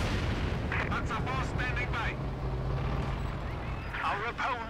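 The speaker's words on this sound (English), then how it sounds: "Stukas who's firing again, unleashing another vicious volley" Stuka rocket artillery in Company of Heroes 2 firing a volley of rockets, heard as rapid overlapping whooshing launches and rumbling bursts over dense battlefield noise, with game commentary talking over it.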